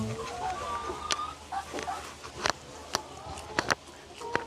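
Chickens cluck at a rural home in the Thai countryside, a few scattered sharp calls over a steady outdoor background, moderately close, while people talk quietly.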